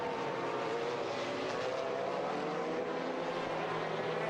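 A GT race car, the race leader in the 2005 FIA GT Championship round at Bahrain, roars past with a steady, loud engine drone that holds throughout without any speech.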